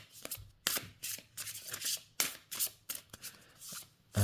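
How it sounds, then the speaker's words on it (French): Oracle cards are shuffled by hand in quick, close, papery riffles, a string of soft slaps and swishes repeating steadily with no talking. "Alors les cartes glissent très bien."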